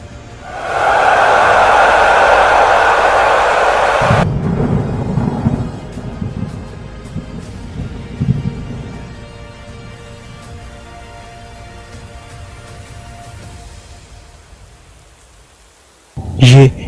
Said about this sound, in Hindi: अरे ये तो तूफान आ गया है।